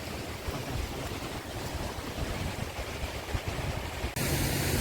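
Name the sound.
traditional water-powered flour mill (gharat) running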